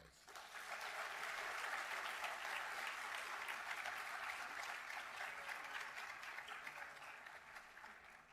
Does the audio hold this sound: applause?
yes